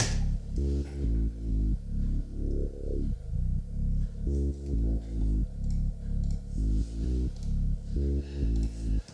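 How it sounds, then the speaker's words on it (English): A low, deep, filtered synth sample pulses in a steady rhythmic pattern, muffled and bass-heavy, with a brief rising sweep partway through. "used the sampler's auto filter to really make it low and deep"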